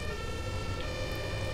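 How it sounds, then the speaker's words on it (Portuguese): A steady electronic police siren in the video game Brick Rigs wails continuously over a low engine rumble, fairly quiet and synthetic-sounding. "Ligar a sirene aqui pros caras pensar que é polícia."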